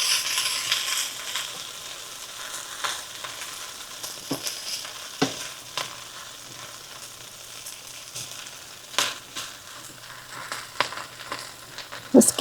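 Hash brown potatoes frying and browning in a pan, a soft, steady sizzle with scattered crackles and occasional scraping stirs, fairly quiet and close, no talk.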